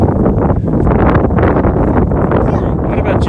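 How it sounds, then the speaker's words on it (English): Strong wind blows on a summer day in Italy, a loud constant buffeting rush across the microphone with no break. "Getting windy, kids."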